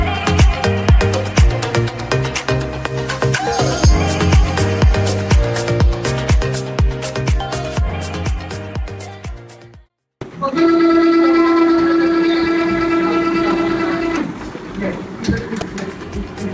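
A Konica Minolta Bizhub C364e copier with a fault runs with a loud, rapid mechanical clattering and knocking, briefly cuts out, then restarts with a sustained whine and grinding, close and continuous.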